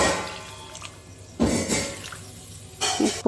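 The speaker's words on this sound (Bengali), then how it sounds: "জল দিয়ে দিলাম," Water splashes into a masala fish curry pan in three short pours, each a bright gush rising and fading, loud and close with quieter bubbling between.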